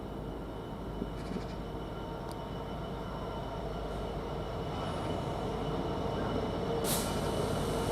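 A Class 66 diesel locomotive, number 66543, pulls into Derby Road station with a steady rumble of rolling rail cars that builds slightly toward the end, with a sharp squeal or hiss near the close.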